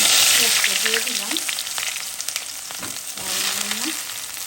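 Onion fries in hot oil for shrimp bhuna, giving a loud, bright, continuous sizzle, with a voice talking briefly in the background at times.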